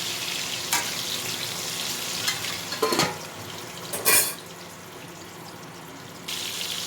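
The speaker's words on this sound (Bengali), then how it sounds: "আলুগুলোকে আর একটু ভেজে নিই।" Potatoes frying in oil in a pan, a continuous sizzle broken by a few sharp stirring scrapes and clatters of a utensil against the pan.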